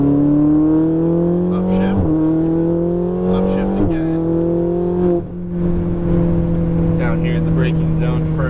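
A Ferrari 488 GTB powers down a racetrack's main straight, its engine wailing and rising in pitch, dropping sharply at each of several quick upshifts, loud and close throughout.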